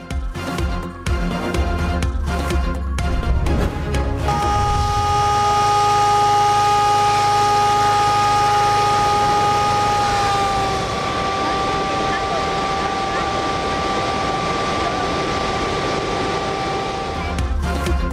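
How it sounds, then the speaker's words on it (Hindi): After a few seconds of jumbled noise, a loud flood warning siren in Pakistan wails with a sustained, steady tone that shifts slightly in pitch midway and keeps sounding. "अतराफ की आबादी को सायरन बजाकर अलर्ट किया गया"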